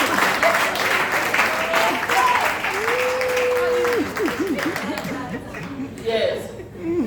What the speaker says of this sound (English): I deserve a clap.